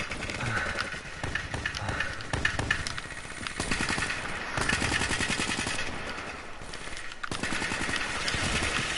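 Rapid bursts of gunfire from a K gun ring out in a first-person shooter video game, fairly faint and repeating through the whole stretch with brief gaps between volleys.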